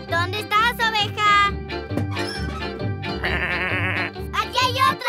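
Cartoon sheep on a farm let out several bleats in quick succession, interleaved with children's and characters' voices talking and exclaiming.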